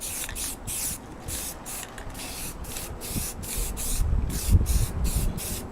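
Short bursts of aerosol spray paint hiss as a light coat goes onto a Yamaha RZ350 fuel tank, about a dozen rhythmic passes close up with brief gaps between them.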